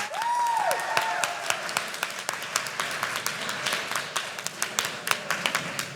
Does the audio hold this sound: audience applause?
yes